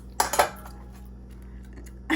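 A covered enchilada baking dish clinks twice against the oven rack as it slides in, two close, quick knocks followed by quiet, then another faint scrape near the end.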